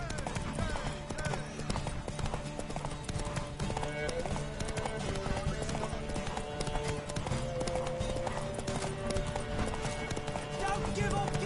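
Galloping horse hooves in The Witcher 3 race during a horse race, a fast, steady clip-clop rhythm close by over game music and ambience, with characters talking throughout.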